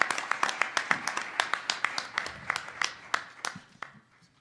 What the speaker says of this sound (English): Let's give them a big round of applause for a wonderful job.